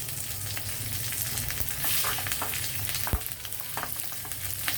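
Tempering spices frying in hot oil for a chana dal coconut curry, a steady, close sizzle and crackle with occasional stirring scrapes throughout, no voices.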